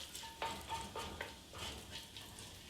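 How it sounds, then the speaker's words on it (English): Diced bacon cooks in a pan for German split pea soup, giving a soft, quiet sizzle broken by a series of light scraping stirs from a utensil. "You can always let it really crisp up and let it brown"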